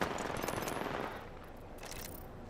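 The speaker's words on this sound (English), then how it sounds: "they're shooting and their bullets are going that way" Rapid automatic gunfire in a shooter video game, a dense loud burst in the first second easing into a continuing busy rattle of shots, no voices.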